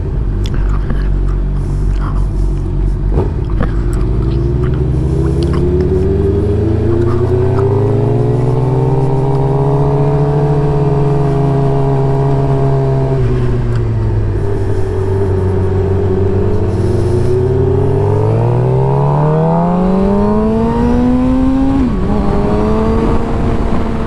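A car revs hard and continuously while warming up its tire, the engine pitch climbing, holding, dipping and rising again over about twenty seconds, loud and close.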